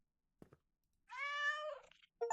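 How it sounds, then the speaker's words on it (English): A cat in the horror video game Terrors to Unveil gives one clear, drawn-out meow after a couple of faint taps, with a short second sound at the end, all quiet and close. "We have a cat?!"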